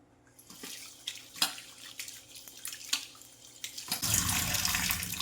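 Prawns are washed in a sink, with scattered drips and light splashes building into a strong, steady gush of running tap water near the end, close by with no voices.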